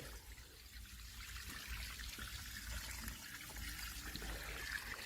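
Water from a garden hose pours over a fake rock waterfall, a soft continuous trickle and splash close by that stays even throughout, with no voices.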